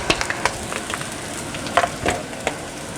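Rice fries and is tossed in a hot pan, a steady close sizzle broken by irregular scraping and clattering knocks as the grains are stirred.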